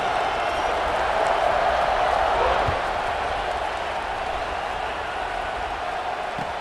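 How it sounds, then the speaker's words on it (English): Stadium crowd noise in EA Sports College Football 26, a loud, steady, broad roar of a buzzing audience that holds level throughout. "this crowd is buzzing after that last score"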